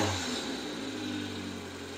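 The engine of a Subaru Sambar hums at idle during idle adjustment, a steady, close mechanical drone with no speech.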